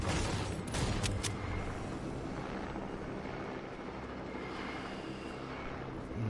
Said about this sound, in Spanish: Si el helicóptero para de venir por aquí.